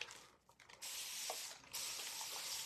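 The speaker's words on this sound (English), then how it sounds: "Just by spraying some water" Water is sprayed in quick hissy bursts onto ink transfers, close up. A couple of short puffs come first, then two longer, steady sprays, with no talk.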